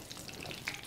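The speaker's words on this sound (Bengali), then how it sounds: "পেঁয়াজটা ভাজা থাক।" Onion frying in hot oil with a bay leaf and dried red chilli for masoor dal, a brief bright crackling sizzle heard up close with no talk.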